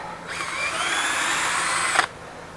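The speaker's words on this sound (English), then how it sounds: "try and keep the drill flat, not angled, because the edges will bite in" A power drill with a sanding attachment whirs at a steady high pitch for about two seconds, grinding against a car headlight during restoration, then cuts off abruptly.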